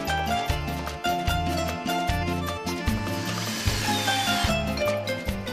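A power drill drives screws into a metal partition profile, with repeated short whirring bursts in a choppy rhythm, loud and close, and no talking.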